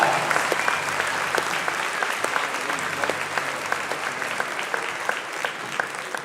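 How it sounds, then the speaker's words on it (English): School band festival audience applauding a 7th grade band, loud continuous clapping from a large crowd with a few sharper individual claps standing out throughout. "Let's give them a round of applause."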